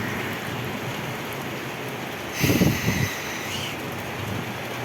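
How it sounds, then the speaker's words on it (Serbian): Steady heavy rain from a storm in Serbia hisses throughout, with a brief louder burst of pounding near the middle before settling back into the even downpour. "Kakav pljusak."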